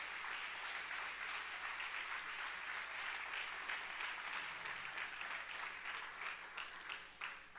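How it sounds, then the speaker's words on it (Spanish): A church congregation applauds in praise during an afternoon worship service, a dense, steady wash of clapping that holds loud and continuous for several seconds before thinning slightly near the end. "Denle un aplauso al Señor si quiere hacerlo."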